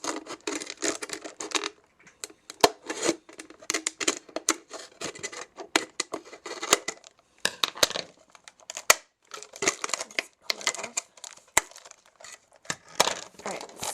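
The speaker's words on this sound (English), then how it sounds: "use the scissor to cut the rest of it. So you can also use a scissor to cut the rest of this plastic." Scissors cutting a plastic bottle, with a run of sharp, irregular snips and crackling crunches in bursts separated by short quiet gaps, heard up close.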